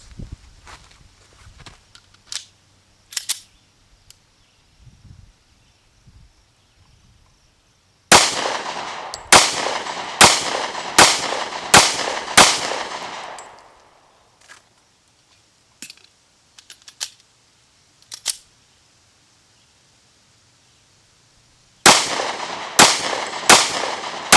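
A Smith & Wesson M&P 40 Shield pistol with a stainless steel guide rod fires two quick strings of sharp, loud shots outdoors, separated by quiet handling clicks and a pause.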